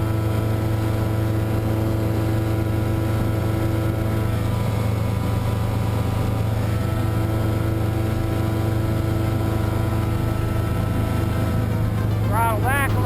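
Himax engine powering an ultralight aircraft in flight, a loud, steady droning hum that holds constant throughout with a brief whirring flutter near the end.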